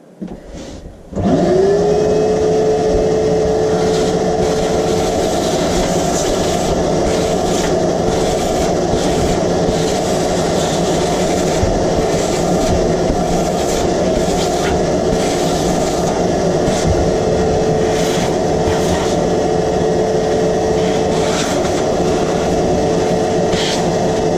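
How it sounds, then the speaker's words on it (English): A vacuum cleaner hoovering up dust from hand-routing a wooden sign switches on with a rising whine, then runs loud and steady with a constant droning tone for over twenty seconds. "let's give it a bit of a hoover"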